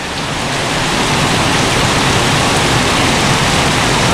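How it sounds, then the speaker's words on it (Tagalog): Heavy rain pours down steadily outdoors among many trees in the Philippines, a dense, loud, unbroken hiss that fills the whole clip with no talking. "Grabe, lakas ng ulan po."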